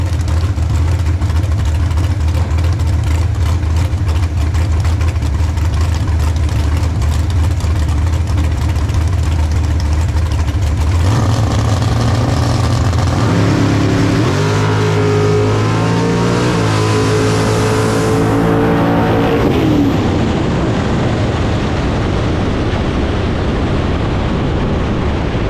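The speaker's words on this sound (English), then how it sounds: "That is the fastest pass this car has ever made, at least while I've owned it." A 570 Roadster makes a drag racing pass at a bracket race: a loud idling rumble gives way to hard acceleration, the engine note climbing through several shifts and then fading into a high whine as the car pulls away.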